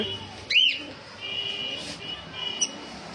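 Yellow Fischer's lovebirds, seven months old and kept in a cage, give a sharp chirp followed by thin whistling calls over a low background hum, with no voices.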